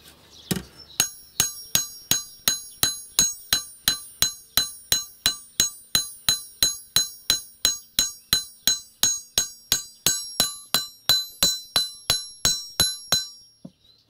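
Hammer peening a scythe blade against the edge of a rail, about forty sharp ringing metallic strikes in a steady even rhythm, close and loud, each note decaying before the next, no talk.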